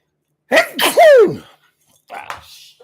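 A single loud, close sneeze with a sharp intake and burst, followed after a pause by a brief softer exhale or sniff.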